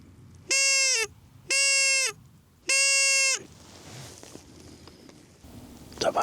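Three loud, sustained squealing wails from a hunting predator call mimic a distressed hare, evenly spaced and close, followed by quiet outdoor background and a faint rustle at the end.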